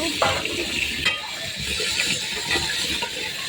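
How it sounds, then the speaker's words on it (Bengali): Rice being washed in a cooking pot with water: continuous swishing and sloshing with small clinks against the pot, close and moderately loud. "চালটা এবার ভালো করে ধুয়ে নেব।"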